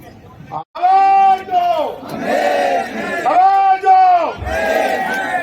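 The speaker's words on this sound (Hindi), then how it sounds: "जय भीम का नारा है" A large crowd at a railway union meeting in Nagpur chants a slogan in unison, loud rhythmic shouted phrases repeated several times with brief pauses between them.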